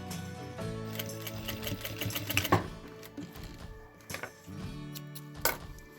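Sewing machine stitching along the second edge of a fabric belt, a quick mechanical rattle of the needle in short runs with pauses and a few sharp clicks, fairly quiet and close with no talking.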